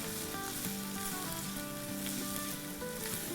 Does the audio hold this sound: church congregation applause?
no